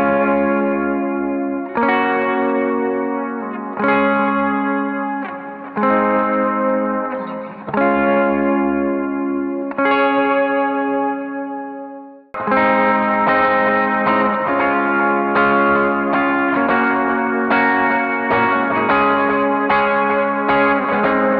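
Electric guitar with effects strums pre-chorus variations of a worship song, first sparse sustained chords, then busier quarter-note strumming after a brief break, loud and alone with echoey, chorus-like shimmer.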